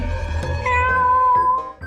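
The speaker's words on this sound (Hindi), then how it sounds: "बिल्ली।" A cat meows in a drawn-out, wavering call that rises and falls, fairly loud and close, over a low background hum.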